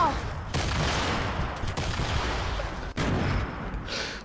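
Dense gunfire in the video game Fortnite, a loud continuous fusillade of shots with a few sharp louder cracks.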